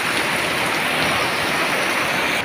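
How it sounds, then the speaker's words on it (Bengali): Heavy monsoon rain falling steadily, a dense, loud, unbroken patter and wash of drops close by with no voices. "এমন বৃষ্টি হচ্ছে যে বলার বাইরে।"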